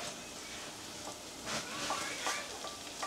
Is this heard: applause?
no